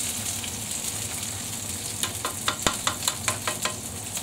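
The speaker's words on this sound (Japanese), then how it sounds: "ニンニクも裏返して、あ、いい感じで焦げ目ついてますね。" Garlic and pork frying in a pan for sweet and sour pork, giving a steady soft sizzle, then a run of light rhythmic clicks and scrapes as the pieces are turned.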